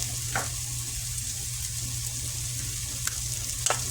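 Birria meat browns in a hot pan with a constant close sizzle and frying crackle, plus a few sharp clicks and light scrapes from stirring, with no talking.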